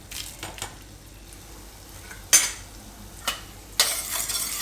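Whole cumin seeds roasting in spices in a pan while cooking tomato paneer, with a soft steady sizzle under a few sharp clinks of a spoon stirring against the pan.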